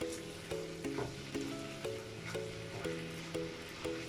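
Potato samosa filling with thyme and green chili fries in a pan, giving a steady close sizzle with light stirring scrapes and a soft recurring clink, with no talk.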